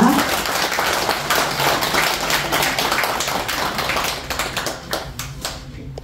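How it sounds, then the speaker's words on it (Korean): Applause from the congregation at a Buddhist dharma service lecture, a dense burst of many hands clapping close by that gradually thins out and fades toward the end. "큰 박수 부탁드리겠습니다"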